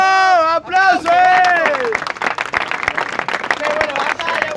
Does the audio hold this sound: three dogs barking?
no